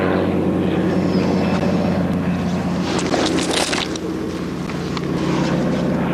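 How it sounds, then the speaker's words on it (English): A small plane drones steadily overhead above a salmon river in Alaska, its loud engine rumble holding near and constant throughout with no talking. "I just heard a plane."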